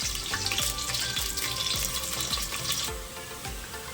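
Chopped onion frying in oil in a pot for veg dum biryani: a loud, steady sizzle runs throughout, with low knocks recurring roughly every half second.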